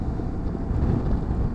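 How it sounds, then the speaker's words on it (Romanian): Strong wind roars steadily across the microphone on a Norwegian coastal road that crosses between islets, a continuous low rumbling gust with no break. "ce bate vântul"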